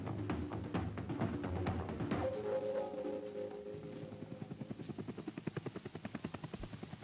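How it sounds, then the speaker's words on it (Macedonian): A helicopter flies over flooded areas of Honduras, its engine droning low and then giving way to a rapid, regular rotor chop that grows distinct toward the end, fairly faint and with no voices. "Хеликоптерот што го гледате лета над поплавените области во централно-американската држава Хондурас."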